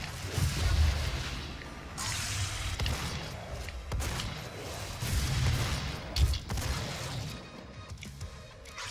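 Double-barrelled shotgun blasts in DOOM, a series of heavy booming shots spaced a second or so apart over rumbling game noise.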